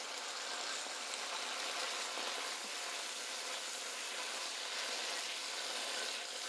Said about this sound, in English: Okay, so in go the beans. We won't need to fry these for too long.